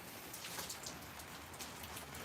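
Steady rain falling outdoors during dog training after work, a dense, even hiss of drops with no voices.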